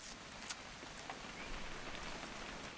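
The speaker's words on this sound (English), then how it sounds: "It's gonna rain the whole weekend" Steady rain falls in the video game What Remains of Edith Finch, a soft, even hiss of drops with occasional light patters, faint and heard alone.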